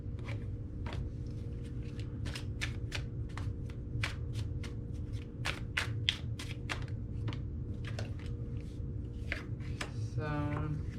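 Tarot cards are shuffled by hand in a quiet room: a run of crisp, close riffling snaps in quick irregular succession, with a soft low background hum and no talk.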